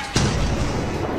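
A mine exploding in Lethal Company, one sudden loud boom that rolls into a rumbling decay.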